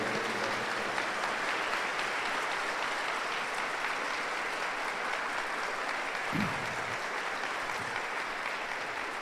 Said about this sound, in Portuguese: Então dê uma salva de palmas para o Divino Pai Eterno.